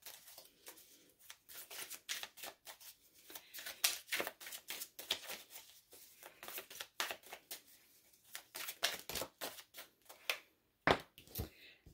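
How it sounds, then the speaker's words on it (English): Oracle cards are shuffled by hand in quick, crisp flurries of papery riffles and slaps. The bursts come in irregular clusters with short pauses, quiet and close, and no one speaks. "we're going to get a couple destined love oracle cards for you"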